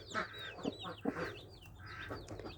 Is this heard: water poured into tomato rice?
no